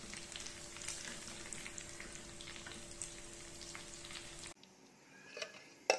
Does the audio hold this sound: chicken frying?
yes